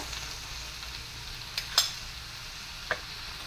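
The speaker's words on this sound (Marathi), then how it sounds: "मंद आचेवर परतून घ्यायची आहे" Vegetables for a Marathi Bhogi mixed-vegetable dish sauté gently in a pan over low heat, a soft continuous sizzle broken by a few sharp clicks of a utensil against the pan.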